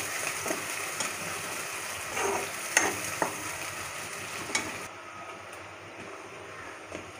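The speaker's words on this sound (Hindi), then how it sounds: "प्याज को मैं लाल फ्राई करूँगी फ्रेंड्स" Onions deep frying in hot oil, a continuous bubbling sizzle with occasional scrapes and light knocks, close at first and then quieter and thinner toward the end, with no talking.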